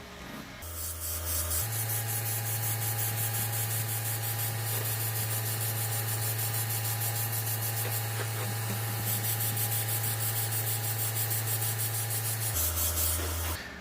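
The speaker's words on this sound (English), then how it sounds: "And then we're going to spray that." An airbrush sprays paint over a vinyl stencil in one long, steady hissing burst with a low compressor hum beneath, close and continuous, starting and stopping abruptly.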